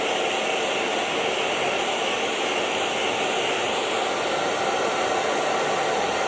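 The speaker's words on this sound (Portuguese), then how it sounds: "Eu vou secar com o secador" A hair dryer blows steadily and loudly at close range, drying paint on a vintage dresser, a constant airy roar with no pauses.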